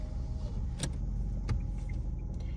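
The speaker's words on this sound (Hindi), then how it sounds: "देखो सामने पूरा कॉन्वॉय आ रहा है आर्मी का" Vehicles of an army convoy pass on a mountain road in the Darma valley, heard as a steady low road rumble with a few sharp clicks and knocks, and no voices.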